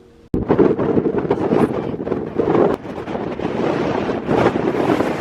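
Strong gusts of wind buffet the microphone, roaring in waves after a brief quiet start, loud and close with no talking.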